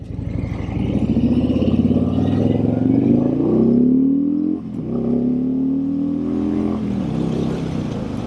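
Harley-Davidson Freewheeler 114 trike engine revving, a loud, close, deep engine note that climbs steadily in pitch, drops briefly, then holds strong again.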